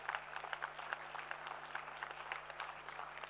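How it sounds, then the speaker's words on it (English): Audience applause in a conference hall at a plant-medicine ethnopharmacology event, a steady, fairly quiet wash of many hands clapping with no one speaking over it. "a huge round of applause for all of you for sitting through the day"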